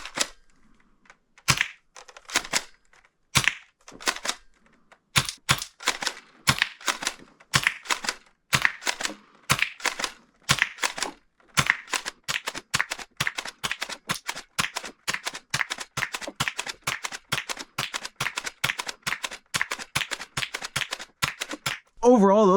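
An XShot Hyper Gel Stinger gel blaster pistol fires a long series of sharp, close snapping shots, sparse at first and then in quicker, steady succession, with quiet gaps between.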